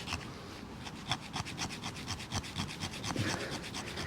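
A metal scraper rasps repeatedly down a ferro rod at an angle to light tinder, producing a steady run of quick, close scraping strokes with small crackling bursts.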